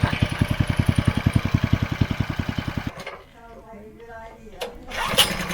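An old forklift's lawn mower engine cranks and chugs in a steady rapid pulse, then cuts out, leaving quieter mechanical rattling and a brief clatter.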